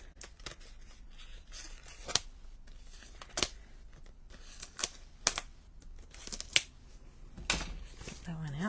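A plastic-wrapped birthday card organizer kit is being opened, with sharp crinkles and snaps of plastic wrap arriving in irregular bursts, close and quiet.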